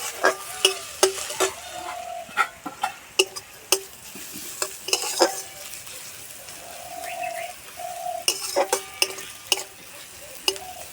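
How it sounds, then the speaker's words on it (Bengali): Onions fry lightly in a pan with a low background sizzle, punctuated by repeated sharp spatula clicks and scrapes against the metal in irregular bursts, with a bird cooing faintly in the distance and no talk. "পেঁয়াজটা হালকা করে ভেজে নেব।"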